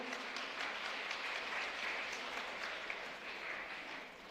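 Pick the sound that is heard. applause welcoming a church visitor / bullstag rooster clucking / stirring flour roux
applause welcoming a church visitor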